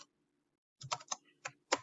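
Typing on a computer keyboard: a handful of crisp, close keystrokes in an uneven rhythm after a short pause, quiet and unaccompanied.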